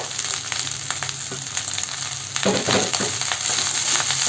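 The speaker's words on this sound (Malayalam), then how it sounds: "ഇളക്കി കൊടുക്കാം ഇനി ഇതിലേക്ക് നമ്മൾ നേരത്തെ ഫ്രൈ ചെയ്ത് വെച്ചിരിക്കുന്ന മുട്ടയും ചിക്കനും ചേർത്ത് കൊടുക്കാം" Fried egg and chicken stirred into chicken fried rice in a hot pan, with a loud, steady sizzle and soft scraping of the spoon, which grow noisier partway through.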